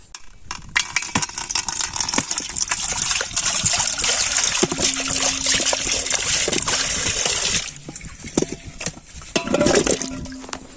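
Tap water runs and trickles steadily while onions and tomatoes are rinsed in a home kitchen, with light splashing and occasional clinks of vegetables and dishes, fairly close and continuous with a brief pause near the end.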